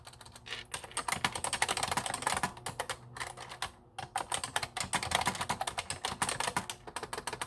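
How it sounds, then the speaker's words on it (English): Long square acrylic nails tapping on a computer keyboard make dense, rapid clicking at close range, flowing steadily with a few short pauses and no voices. "I can type"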